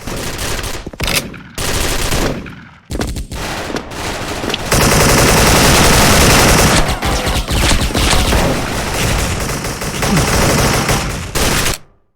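AK-74 rifle fire in the online shooter Special Force, loud and close, with short bursts at first and then long sustained automatic fire that stops abruptly near the end.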